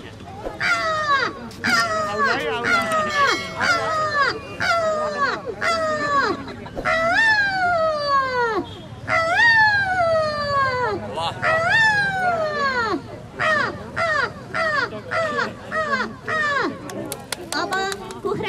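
A person mimics a crow's caw with their voice, producing a long run of harsh, descending calls in quick succession, loud and up close.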